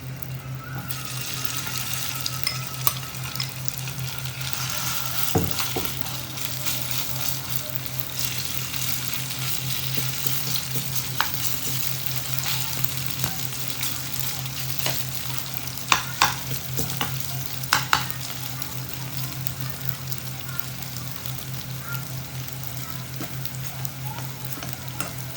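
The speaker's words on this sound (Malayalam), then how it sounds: "ചിക്കന് ചെറിയ പീസാക്കിയിട്ട് കട്ട് ചെയ്തുകൊണ്ട് തന്നെ പെട്ടെന്ന് തന്നെ നമുക്ക് ഫ്രൈ ആയി കിട്ടും." Chicken pieces and sausage fry in sunflower oil for a pizza topping, a steady broadband sizzle with occasional stirring clicks and scrapes, close and continuous with no talking.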